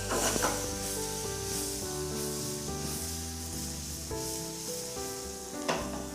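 Prawns dropped into a pan of chilli masala and frying, a loud, continuous close sizzle with a sharp burst at the start and another near the end as they are stirred.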